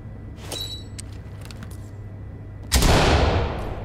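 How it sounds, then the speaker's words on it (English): A flashbang grenade goes off in the tactical shooter Ready or Not as a sudden loud broadband blast, after a few faint clicks and a quiet low hum, then fades slowly. "I'm gonna go ahead and pop a flashbang"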